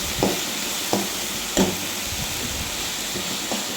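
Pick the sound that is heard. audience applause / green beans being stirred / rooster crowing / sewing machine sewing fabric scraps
green beans being stirred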